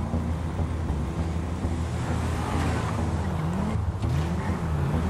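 Car driving in the video game GTA, a steady engine drone with a low rumble and gear-like pitch sweeps that rise and fall as it moves, loud and continuous throughout.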